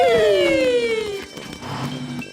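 Fire engine siren from a French-dubbed Peppa Pig cartoon, with the fire engine rushing to a burning barbecue: a loud wailing tone gliding downward close by, then dropping to a lower steady pitch.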